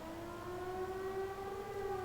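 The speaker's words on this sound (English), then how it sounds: "It sounds like a siren." A siren sounding from a fort in the video game Trails of Cold Steel, a steady sustained wail holding a near-constant pitch with layered tones, moderately loud and alone.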